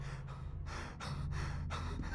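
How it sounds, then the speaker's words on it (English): A cartoon character breathes heavily in an animated scene, with a rapid series of loud, close, gasping breaths that come in uneven bursts over a low steady background hum. "he's breathing heavily"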